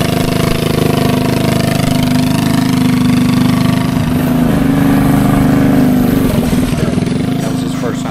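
Rascal GT minibike with 10-inch wheels running steadily at close range, its small engine giving a loud, continuous buzzing drone that wavers slightly as it rides, with voices faintly mixed in.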